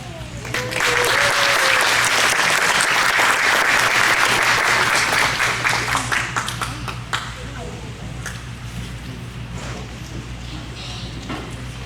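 Audience at a children's stage play of Stone Soup breaks into dense, loud applause that swells quickly, holds for several seconds, then thins into scattered claps and murmuring.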